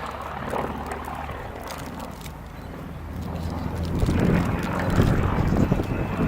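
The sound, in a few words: Bristol Blenheim aircraft with 400 horsepower engine flying past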